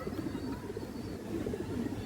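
Muslodom pigeons, including a male, coo softly in a coop, with repeated low, throaty calls in a steady rhythm close by.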